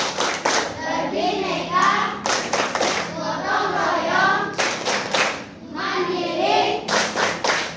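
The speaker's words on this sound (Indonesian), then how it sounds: "Tepuk profil pelajar Pancasila" Students in a classroom perform the rhythmic Pancasila student profile clap chant, bursts of patterned group clapping alternating with chanted voices, loud and close, with short gaps between sections.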